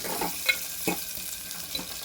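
Onion tempering sizzles in a pan for a village-style lentil rasam, a continuous gentle fry broken by a few soft scrapes of stirring, heard close and alone.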